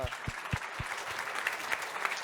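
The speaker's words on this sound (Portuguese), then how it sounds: "E mais uma vez a salva de palmas aqui para o pessoal." Audience at a banking technology conference panel claps in brief scattered applause, steady and fairly close, with no voices over it.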